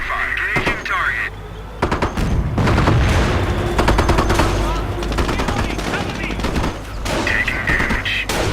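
Gunfire in the Company of Heroes Normandy invasion game, dense bursts of machine-gun fire and booming shots in rapid clusters, mixed with clipped voices calling out.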